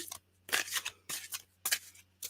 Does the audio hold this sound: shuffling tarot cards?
yes